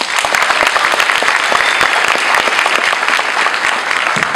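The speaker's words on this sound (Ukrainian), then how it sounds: "Ваши аплодисменты, друзья." An audience at an awards ceremony claps steadily and loudly throughout, dense crowded applause with no pauses, close and sustained.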